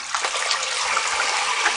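Tap water runs in a steady, hissing gush over hot tomatoes in a kitchen. It is close and even throughout, with no voices.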